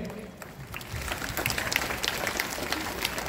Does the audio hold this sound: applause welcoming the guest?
yes